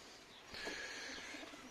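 Pigeons cooing inside a coop, a soft murmur that swells after a brief quiet start and carries on as low, overlapping calls with faint chirps.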